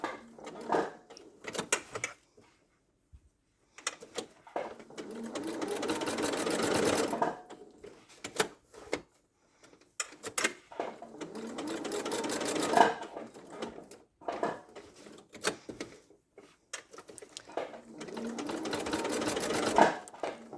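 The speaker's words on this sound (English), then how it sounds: "I'll do one more stitch more and then turn the corner" A sewing machine stitches fabric in several runs of steady rapid whirring, each a few seconds long, separated by short pauses and faint handling clicks, fairly close and alone.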